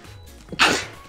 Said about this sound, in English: Oh no, I gotta sneeze.